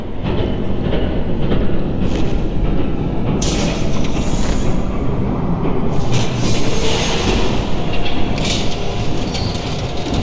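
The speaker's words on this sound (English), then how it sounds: "There's a train coming." A train rolls past in a Telltale video game, a loud steady rumble of wheels and clattering cars that fills the whole stretch, with brief brighter metallic hisses and squeals on top and no speech.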